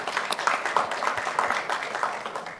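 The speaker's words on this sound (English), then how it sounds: "Can you give him a round of applause again?" Audience applause at a shareholders' annual general meeting for Sygnus Real Estate Finance Limited, a steady wash of many hands clapping filling the room at moderate level throughout.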